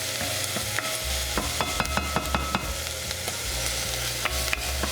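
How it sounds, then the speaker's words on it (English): Onions and garlic fry in a pot with a steady sizzle, while a utensil stirs and scrapes now and then, close up, with no voices. "We're going to fry this for about 5 minutes or until the onions and garlic are soft."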